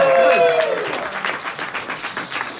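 Live comedy dating show audience applauding, a crowd's clapping filling the room at moderate loudness, tapering off gradually, with a voice briefly heard at the start.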